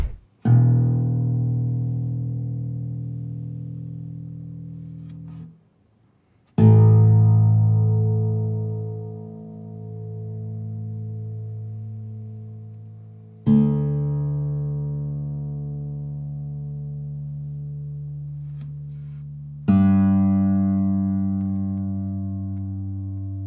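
A Kazuki Soul Bass acoustic-electric bass guitar played through a NUX amp rings out in four long plucked notes, each sustained and slowly decaying with rich harmonics. A brief silent gap falls between the first two notes, with no voices.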